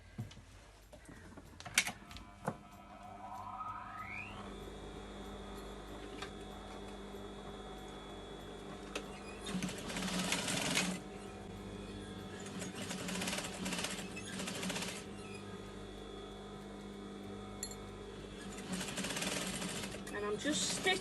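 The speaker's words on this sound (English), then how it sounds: "I'm just going to stitch these two sides down" A sewing machine stitches down the sides of a fabric bed runner, running in a steady mechanical whir with short pauses and speed changes, fairly close and clear under soft talking.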